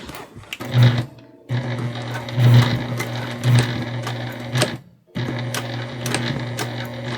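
A Juki TL2 sewing machine stitching a drawstring backpack runs in several loud, close bursts of fast rhythmic whirring, with short pauses between runs and no voice over it.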